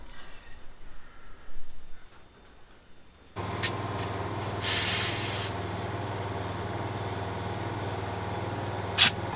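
A compressor hisses air into old, cracked farm equipment tyres, starting abruptly after a quieter stretch and then running as a steady, close hiss with engine hum below it and a sharp pop near the end.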